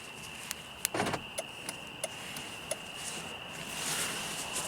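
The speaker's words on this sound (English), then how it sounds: "Let's lock the car." A 2001 Mercedes-Benz C240 being locked: a sharp clunk of the door locks followed by a series of faint, evenly spaced clicks and a soft rising motor whir, with no one talking.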